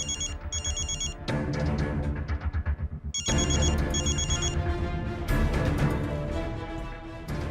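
Phone ringtone for an incoming video call, a repeating electronic melody with bright chiming tones in bursts, loud and close, playing steadily throughout with no speech over it.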